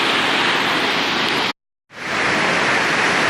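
Cachoeira da Luz, a 70-metre waterfall at Eldorado, São Paulo, roars as a loud, dense, steady rush of falling water, broken by one short silent gap.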